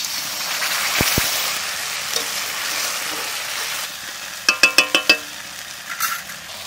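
A cardamom, cinnamon and clove spice paste for Bengali chital fish muitha hits hot oil in a frying pan, producing a steady sizzle followed by a quick run of metallic stirring clinks, close and fairly loud.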